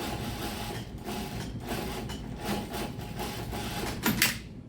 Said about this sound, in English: just run edge stitch here, basically edge stitch 1/8 of an inch